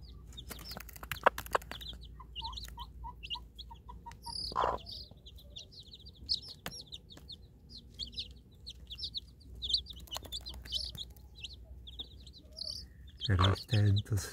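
A mother hen with eight three-day-old chicks clucks softly while the chicks keep up a steady stream of high, rapid peeping, close by and outdoors, with occasional louder calls and brief rustling.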